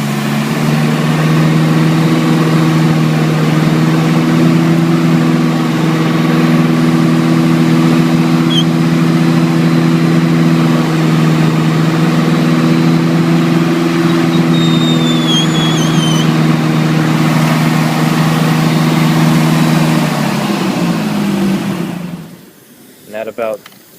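A car engine running steadily at about 2,500 RPM during a charging system test, heard as a loud, even mechanical hum that holds for around twenty seconds and then drops away.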